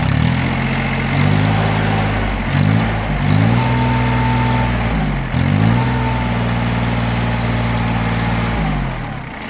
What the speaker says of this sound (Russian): Двигатель работает ровно, без каких-либо замечаний.